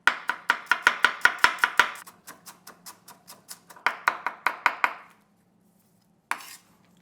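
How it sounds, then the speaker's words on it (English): A knife cuts peeled ginger into thin matchsticks on a board with close, crisp chopping strokes: a quick even run, softer taps, then another fast burst, a pause and one final knock. "You can mince or just if you can, just like me, cut into thin matchsticks."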